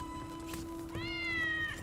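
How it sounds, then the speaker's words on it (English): A cat lets out a loud, drawn-out meow partway through, rising and holding, over a steady low background hum in a building stream of the game Enshrouded; no one speaks. "Oh, the cat is very loud."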